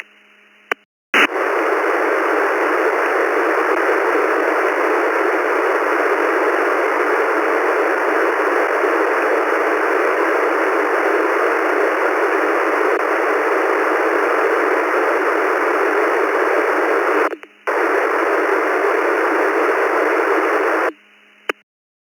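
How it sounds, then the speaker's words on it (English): Steady hiss of white-noise static from a ham radio receiver, loud and continuous, with a couple of brief dropouts and no speech. "Sound of white noise in the morning."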